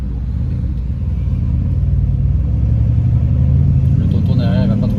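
A Mercedes C63s AMG accelerates hard, its deep engine rumble building steadily from inside the car over five seconds, loud and continuous, with some talk in the cabin.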